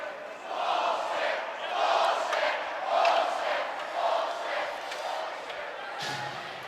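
A high school ice hockey crowd at a Darien home game chants in rhythmic swells, rising and falling across the rink at moderate distance, with a commentator's voice talking over it.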